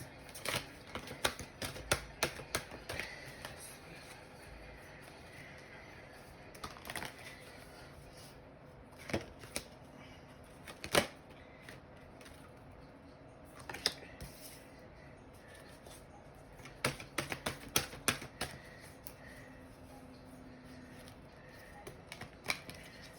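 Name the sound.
shuffling cards for a spiritual card reading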